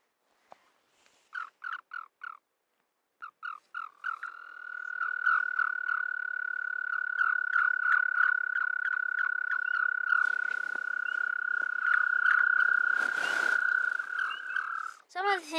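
A male toad's high, sustained trilling mating chirp, starting with a few short pulsed calls, then one long steady buzzing trill, close and fairly quiet.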